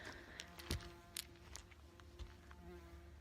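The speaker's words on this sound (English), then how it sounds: "it's a really big bee interested in me" A big bee buzzing close by outdoors, a faint steady drone with a low hum, accompanied by a few soft knocks and rustles, with nobody talking.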